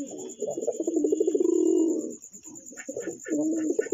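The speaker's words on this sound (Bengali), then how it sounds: "এটা আমার বাড়ির খুব পুরনো কবুতর।" Pigeons coo in a loft, a long old breeding pair among them, giving soft, throaty rolling coos that repeat close by, with faint chirps and a steady high hum in the background.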